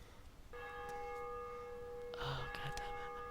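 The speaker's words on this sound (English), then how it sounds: "Oh, that's new. They've put the bell in it." A church bell rings in the DayZ video game, a sustained metallic tone with bright overtones that sets in suddenly and rings on, under a few brief scuffing and clanking game sounds, with no talking.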